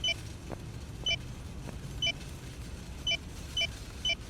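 Sharp, high electronic beeps from a video game sound in short pulses about half a second to a second apart, faint against a low rumbling background.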